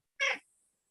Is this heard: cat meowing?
yes